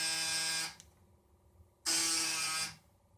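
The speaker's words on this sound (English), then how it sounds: "The red is the buzzer and has power." A harsh electric buzzer on a bus sounds twice, each blast lasting under a second with a short silent gap between, loud and close.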